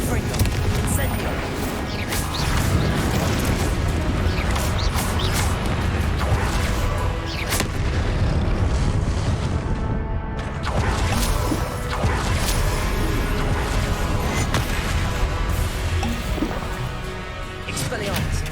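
Spells fire in Hogwarts Legacy, Confringo blasts among them, as dense, loud crashes and booms arrive in rapid succession with whooshing bursts, a dense continuous barrage with only a brief thinning midway.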